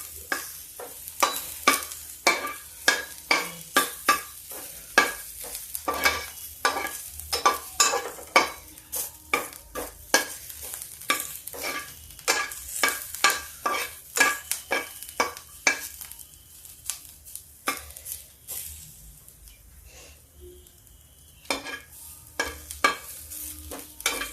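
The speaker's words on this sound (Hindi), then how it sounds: "देखिए भुना नहीं है इसलिए मैं इसको भून रही हूँ" Whole masoor lentils are dry-roasted in a pan and stirred without pause. A ladle scrapes and clinks against the metal in a quick, regular rhythm, with a dry rattle of grains under each stroke. The stirring is close and steady throughout, then thins toward the end.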